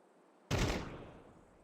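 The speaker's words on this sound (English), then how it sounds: "Little bit of a chatter of an AK" AK rifle fire in a Counter-Strike match on Anubis: one short, sharp burst erupts from quiet, then fades into a lingering echoing tail.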